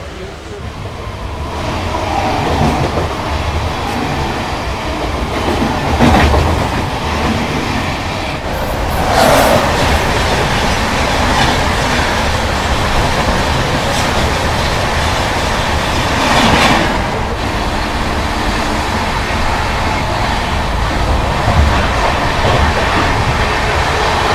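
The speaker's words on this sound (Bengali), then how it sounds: "ট্রেন আমাদের এসে পৌঁছে গেল বর্ধমান জাংশন" A passenger train runs on the rails toward Burdwan Junction, with a continuous loud rumble and rattle of wheels and carriages heard from inside the coach.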